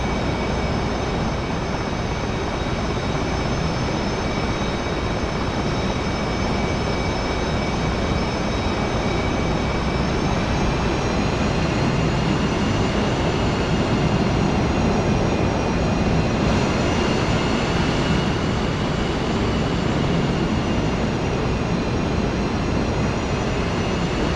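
Steady roar of a carrier jet's engine in a flight simulator game strike mission, a continuous loud whine and rumble that holds throughout without talk.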